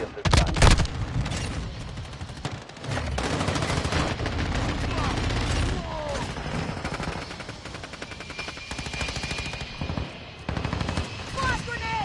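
Sustained automatic gunfire in Call of Duty: Modern Warfare 2, loud and near, with rattling bursts and heavy booms overlapping continuously amid chaotic battle noise.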